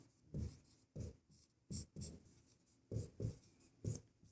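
A pen writes out a maths solution on paper, a close, soft scratching in short separate strokes and bursts with brief pauses between them, no voice present.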